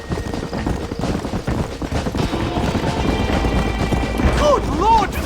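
A horse gallops in Red Dead Redemption on PC, its hoofbeats drumming under game music, with a voice speaking over it.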